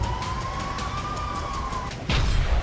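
Air raid siren sounding in an Israeli city, a single steady tone that rises slightly and holds before cutting off, heard against a loud background rumble that swells near the end.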